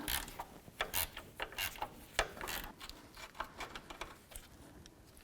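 A 12mm wrench or ratchet works loose a bracket on a 2005–2015 Toyota Tacoma during a power steering rack replacement, giving irregular close metallic clicks and short ratcheting bursts with brief pauses.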